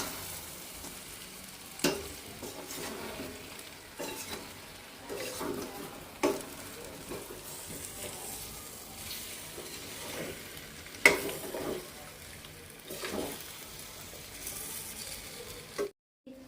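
Spicy chicken frying in oil in a pan, with a steady crackling sizzle and occasional stirring scrapes, close by and with no talk.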